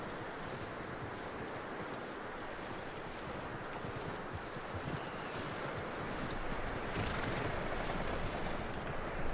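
Horse hooves clip-clop steadily in Red Dead Redemption 2, soft and fairly distant under a constant wash of outdoor background noise.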